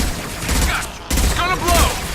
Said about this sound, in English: Heavy weapons, get down. Firing an impact shot.